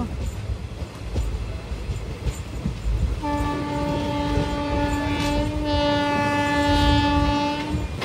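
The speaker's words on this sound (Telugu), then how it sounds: "విన్నారా? మన లోకోమోటివ్ హాంకింగ్." A locomotive horn on the Narasapur–Nagarsol express sounds a long, steady blast through rail noise as the train passes Bhimavaram Junction without stopping. The horn is loud and sustained and runs to the end, over the rumble of the moving train.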